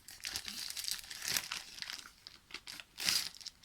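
Crinkly plastic packaging on an AliExpress rubber stamp sheet being cut and torn open, in close, uneven rustling bursts with a sharper crackle near the end.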